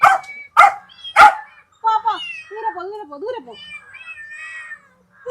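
A cat nearby gives three short, sharp cries, then a run of long, wavering meows.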